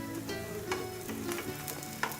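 A pancake fries in a pan, giving a close, steady crackling sizzle with a few sharper pops and faint scraping, and no talk.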